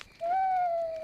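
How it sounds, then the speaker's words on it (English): A cartoon owl in a children's animated show about a camping trip gives one clear, drawn-out hoot with a steady pitch, heard alone and close. "It's an owl."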